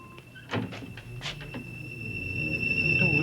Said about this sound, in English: The door's locked. We can't get it open.